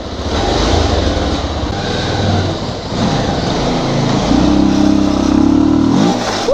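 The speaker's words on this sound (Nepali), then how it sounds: "धवी माविको स्कुलभित्र बाइक आएछ" A motorbike revving on school grounds before a ramp jump, its engine rising and falling in loud, close bursts with a sustained high-revving stretch toward the end.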